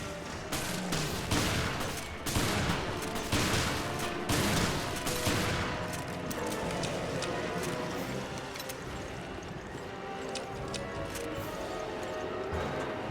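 Rapid gunfire from the Resident Evil: Revelations Raid Mode video game, dense bursts of shots and impacts running throughout alongside other game effects, loud and busy.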